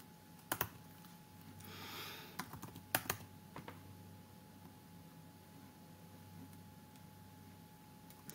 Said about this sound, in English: From there, I'll just type in my creds.